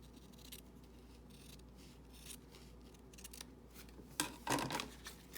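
Scissors trim a fabric edge with soft, faint snips and rustling near the end, after a stretch of quiet handling.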